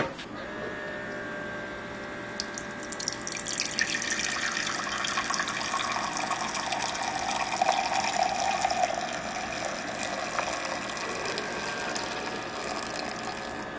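A Keurig brewer pushing another 8 ounces of water through fresh tea leaves, a mechanical pump whir rising into gurgling, hissing flow that builds and then fades, with no talk.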